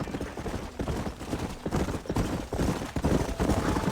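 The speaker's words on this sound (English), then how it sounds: "Whoa, look at these here horses." Horses' hooves clip-clopping in the Red Dead Redemption video game, a busy, uneven patter of many hoofbeats at close range with no talk over them.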